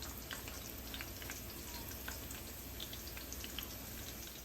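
Beef and cheese wontons frying in a pot of oil, with a quiet, even crackling sizzle and small popping bubbles throughout, no voices.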